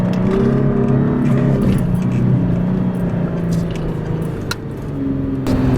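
A Toyota 4Runner strains up a sand dune hill at the Oregon Dunes, its engine droning loud and close as it bogs down in the soft sand, holding a heavy labored tone throughout.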